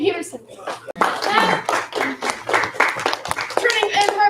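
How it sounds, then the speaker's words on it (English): A class of children claps on cue, sharp rhythmic hand claps mixed with voices, loud and close, in a martial arts class. "Give him 1 clap. 3 claps."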